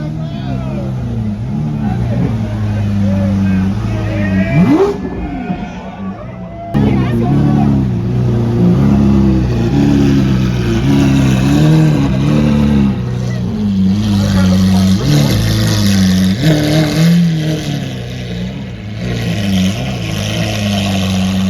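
Engines of a Porsche 997 GT3 RS with a loud exhaust and other cars revving and passing at Monterey Car Week in Carmel, a continuous loud rumble that swells and dips, heard under someone talking throughout.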